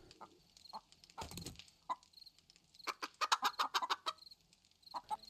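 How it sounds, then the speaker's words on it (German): Chickens clucking in the 7 Days To Die video game, a series of short, close clucks, with a quick rhythmic burst of them toward the end and no talk. "die Hühner sind scheinbar fertig mit Eierlegen"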